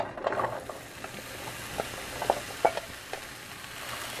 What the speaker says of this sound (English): as you can hear the sizzle, that's exactly what I want, because I want to give it a nice little char